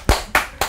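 Three sharp, close hand claps at an even pace, each a distinct crisp smack with a short gap between.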